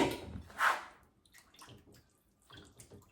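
Pork ribs rinsed under a running kitchen tap: a short splashing burst of water hitting the meat, then quieter, intermittent trickles and drips, with no talking.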